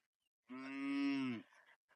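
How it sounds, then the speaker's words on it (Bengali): A single cow gives one long, clear moo while grazing freely on an open river char pasture among many cattle, heard alone against near silence. "পিছনে এরকম হাজার কে হাজার গরু আর গরু দেখতে পেয়েছি"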